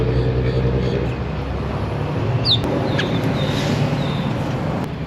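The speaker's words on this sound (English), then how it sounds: "A bird just dropped in to say hi." Chickens cluck near an outdoor table in the Florida Keys, scattered clucks and calls over a steady low rumble of nearby road traffic, with a few brief sharp chirps.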